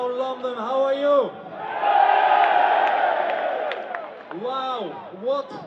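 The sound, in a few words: large outdoor crowd cheering at a rally in London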